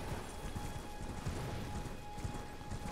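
Horse hooves galloping in the video game Elden Ring, a fast steady clip-clop of running hoofbeats heard up close under a dense wash of game ambience and noise.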